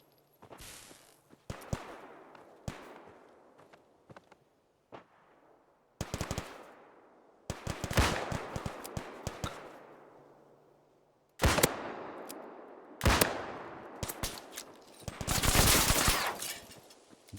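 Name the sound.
gunfire in video game Fallout 4 Tarkov mod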